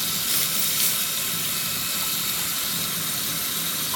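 A red-hot vape coil being shocked in water gives a steady hiss and sizzle. The sizzle is loud, close and continuous, with no voices.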